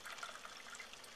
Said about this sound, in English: Now we need about a half cup of dry white wine